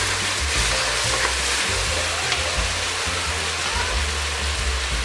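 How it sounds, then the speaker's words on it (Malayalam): Mutton stock being poured into hot rice in a pot for Thalassery mutton dum biryani, giving a loud, steady sizzle and bubbling hiss that runs unbroken throughout with no talk. "നമ്മൾ ആ മട്ടൻ വേവിച്ചതിൻ്റെ ബാക്കിയുള്ള വെള്ളം അതിനകത്തോട്ട് ഒഴിക്കുന്നത്."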